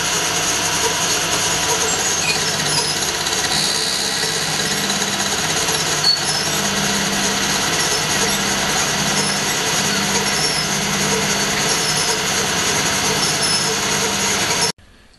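Milling machine cutting a tongue joint in a wooden workpiece with a packing piece, a steady loud droning whir that runs unbroken for about fifteen seconds before stopping abruptly.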